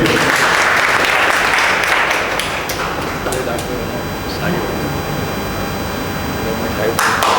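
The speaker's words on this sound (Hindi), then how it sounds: "तालियां बजाते रहिए।" Applause fills a coaching-class ceremony honouring a NEET-2024 selected student, a dense, steady wash of many hands clapping for several seconds, with a few sharper claps near the end.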